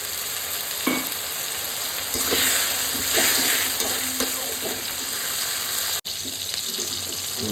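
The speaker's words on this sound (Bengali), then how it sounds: "আবারও একটু জল দেবো।" Water poured into a pan of sizzling pointed gourd and prawn curry, a steady splashing hiss over frying crackle with a few soft stirring knocks, close by and without talk.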